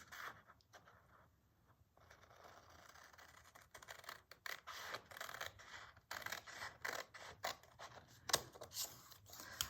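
Scissors snip through paper journal tabs in a quiet tabletop setting, giving a series of soft, close cutting and scraping strokes that grow busier and more frequent toward the end.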